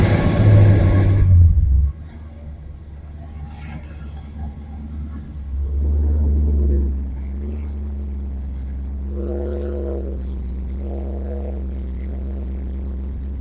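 A truck engine cranks over with a loud low burst, then settles into a steady, deep rumbling idle with a brief rev in the middle, heard close and without talk.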